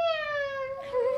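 A person imitates a cat with one long, steady, slightly falling meow, close and clear, holding for about a second without other sounds.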